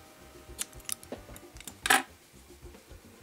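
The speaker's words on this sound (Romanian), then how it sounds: "tăiem firul" Scissors snip through crochet yarn with a few close, crisp cuts, including one louder final snip, against an otherwise quiet background.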